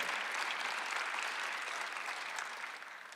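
A church congregation applauds during a Sunday worship service, a dense, steady wash of clapping that holds for the whole stretch and eases only slightly toward the end, with no voice over it.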